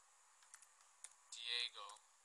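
Quiet keystrokes on a keyboard as a game name is typed into a search bar, a few sparse clicks followed by a brief louder burst, close and faint.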